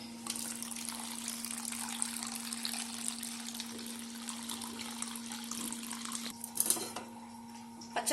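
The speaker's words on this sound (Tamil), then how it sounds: "நான் வந்து இது சாஃப்டாக வரணும் அப்படின்றதுக்காக தண்ணி ஊற்றி அலசி எடுத்துக்க போகிறேன்" Water runs steadily from a tap over fresh paneer in a vessel, rinsing it, a constant splashing rush with a low hum beneath and a brief clatter near the end.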